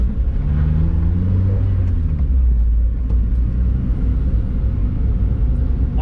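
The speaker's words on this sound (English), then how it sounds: "we're in the Project NB Miata on our first test drive" A 1999 Mazda NB Miata drives with the roof down, giving a steady low engine and road rumble mixed with wind buffeting. It stays loud and constant, with no clear revving.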